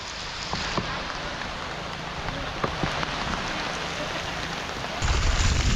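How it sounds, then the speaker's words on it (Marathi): Heavy rain pours steadily over a paddy field during Konkan rice transplanting, a dense close hiss with scattered drop patter that grows louder toward the end. "आलेला आहे पाऊस जोरात"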